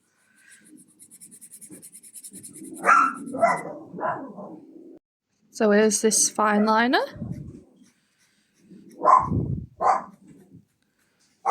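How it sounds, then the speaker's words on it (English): Several dogs bark in the background, in a few short bursts spread across the clip, while a person speaks nearby while unboxing art supplies. "Sorry about the dogs barking in the background"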